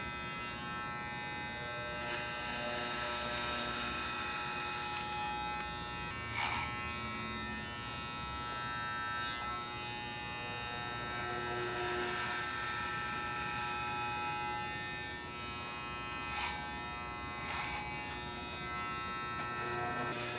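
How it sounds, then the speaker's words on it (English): Electric hair clippers buzz steadily and fairly close while cutting a freehand fade, working in vertical sections up the back of the head. The motor drone goes on without a break, and its tone shifts slightly as the blades pass through the hair. "So continue working in vertical sections with your clipper up the back of the head."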